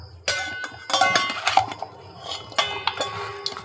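A metal spoon scrapes and clinks against a steel bowl while pickle masala of salt, chili and spices is mixed, with repeated bright rattling strokes and short pauses, close and fairly loud, no talk.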